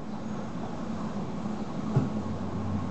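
Nishitetsu electric express train bound for Ogori, running between Futsukaichi and Chikushi, heard from inside the car as a steady, moderate rumble of wheels and motor with a brief clack near the end.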